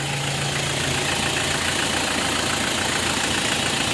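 A 2008 Mitsubishi L300 FB van engine runs steadily at idle, a loud, close, rumbling drone with a slight rhythmic knock and no talking.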